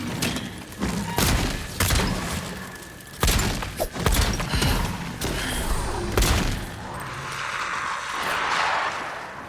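Two guns fire rapidly in the fantasy game Avowed, a string of loud, close bangs and thumps in quick irregular bursts, with brief gaps and a noisy rumbling tail as the shooting trails off.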